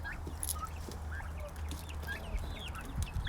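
Turkeys and other fowl in a farmyard with goats and other farm animals, giving soft clucks and gobbling calls over low, steady background noise, fairly close and continuous throughout.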